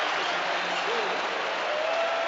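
A stadium crowd at the Scottish Cup Final between Celtic and Inverness roars steadily after a Celtic goal, a dense, sustained wash of cheering with faint voices underneath.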